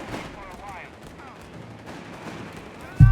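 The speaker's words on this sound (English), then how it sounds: "Panzer in the center there being absolutely mauled here by rifle fire and, more crucially, mortar fire" Rifle and mortar fire rattle through a Company of Heroes 3 battle, a steady muffled din of gunfire with a sudden loud blast at the very end.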